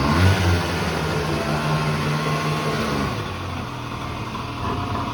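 A Honda Dio AF27 scooter engine with a leaky-sounding air filter runs close and loud, revving slightly at first, then settling into a steady, raspy idle with no talking.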